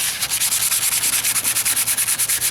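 Hand-sanding a body-filler patch on the driver's side wheel arch of a 1998 Ford Ranger, steady rhythmic back-and-forth strokes close by, loud and alone with no talking.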